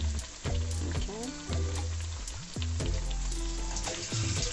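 Akara bean fritters fry in hot oil with a continuous crackling sizzle, while a voice talks over it in bursts with pitch sweeps and pauses.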